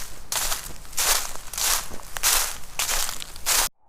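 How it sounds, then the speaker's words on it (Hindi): Footsteps crunch and rustle through dry leaves on a forest floor, a steady walking rhythm of about six close, crisp steps that stop abruptly at the end. "हर कदम पर पत्तों की खड़खड़ाहट"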